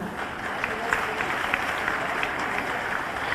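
Continuous applause fills a hall at a government awards event, a thick, even roar of many hands clapping at steady volume, with crowd murmur blended in.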